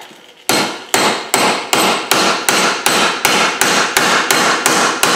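Hammer pounding a 17 millimeter socket onto a nut strikes about twelve times in a steady rhythm, each metallic blow loud and close with a short ringing decay.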